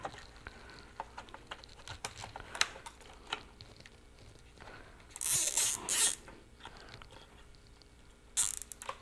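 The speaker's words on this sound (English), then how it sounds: "Zip tie all this together." Zip ties being pulled tight around wiring on a 2016 Yamaha FZ-07 motorcycle, quick ratcheting clicks and small plastic taps, with two louder bursts of rustling, close and alone.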